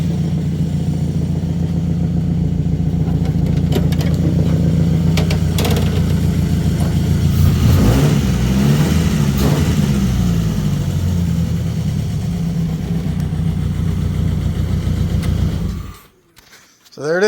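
The engine of an abandoned Plymouth Neon car runs up close with a rough, steady idle and a brief rev in the middle, then cuts out abruptly near the end. Voices can be heard faintly underneath.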